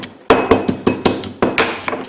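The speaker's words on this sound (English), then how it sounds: "you have to just grind everything up" Cumin and spices pounded in a mortar: a run of sharp, close knocking strikes at an uneven rhythm, each thud with a faint ringing clink.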